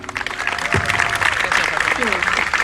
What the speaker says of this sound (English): Please give a round of applause to Passion of Flamenco